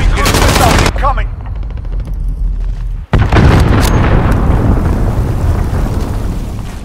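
Loud, dense Call of Duty: Modern Warfare battle audio with sustained gunfire and heavy missile-strike explosions, a brief cutoff near the middle, then continuous booming rumble and shots.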